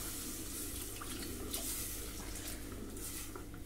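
Water pouring into a gram flour chutney (Bombay chutney) in a cooking pot, a steady continuous trickling and splashing that runs throughout, close and moderately loud, with no talking.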